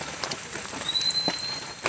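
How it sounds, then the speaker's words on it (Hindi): Heavy rain pouring down at a roadside stop in the countryside during a KTM RC390 motorcycle trip from Mumbai to Ratnagiri, a steady hiss of drops with a few louder splatters close by. "We're in the middle of nowhere and it has started to pour."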